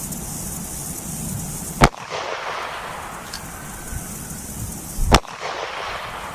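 A .38 Special pistol fires cast rounds into a one-inch polyurea slab, producing two sharp, loud shots a few seconds apart, each with a short ringing decay over a low background.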